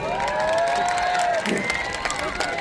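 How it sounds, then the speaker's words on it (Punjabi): A crowd at a live Punjabi music show at a Sydney mela claps and cheers steadily, a broad wash of applause with a voice and faint tones carrying over it. "ਜਿਹੜਾ ਜਿਹੜਾ ਪਿਆਰ ਕਰਦੇ ਤਾੜੀ ਲਾ ਦਿਓ ਬਾਈ"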